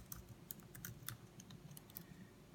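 Faint, rapid typing on a computer keyboard, a quick irregular patter of key clicks entering patient symptoms on an intake system, heard alone at low level.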